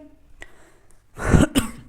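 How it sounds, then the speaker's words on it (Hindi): A couple of short, throaty coughs close by, the second following quickly after the first, with a faint earlier sound before them. "थोड़ा सा आज खांसी बहुत आ रही"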